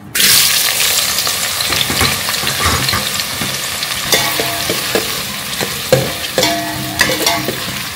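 Onions hit hot oil for chicken tahari, giving a loud burst of sizzling that settles into steady frying, with sharp spatula scrapes and clinks recurring in the second half.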